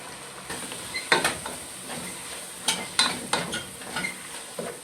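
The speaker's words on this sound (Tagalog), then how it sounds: "Igisa natin yan, no? Para masarap." Celery being sautéed in a pan for Filipino-style chicken biryani, a steady close sizzle broken by several sharp stirring scrapes and clatters, no voices.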